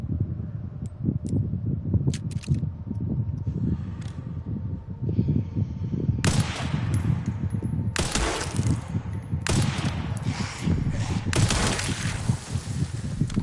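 Gunfire in the video game Resident Evil 9 Requiem, with several sharp bursts of shots and glass-like cracks in the second half over a constant low hum of game ambience.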